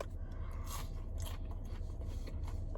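Crunchy McDonald's spicy chicken nuggets bitten and chewed close to the mic, with steady crisp crackling bites and scraping crunches running throughout, no talking.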